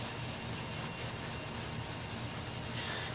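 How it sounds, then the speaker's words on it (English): Fine steel wool rubbed over wood to remove purple leather dye, producing a continuous, even, close-up abrasive scrubbing hiss throughout. "So this is some fine steel wool. And if you just rub off some of the color like this"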